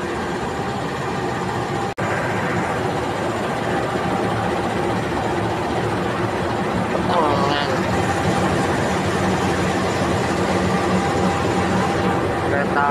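A train passes at night, a heavy, continuous engine and wheel rumble that stays loud and close for the whole stretch, with a brief sharp click early on.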